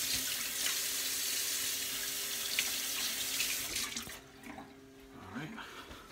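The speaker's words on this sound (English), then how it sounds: "Wash my hands good here." Tap water runs steadily into a sink as hands are washed while food is prepared for smoking venison, pork and bratwurst; the stream is close and constant, easing off near the end.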